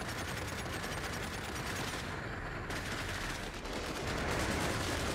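Sustained gunfire in the video game Cepheus Protocol, a dense, continuous roar of rapid shots that runs loud and steady throughout, with no talking.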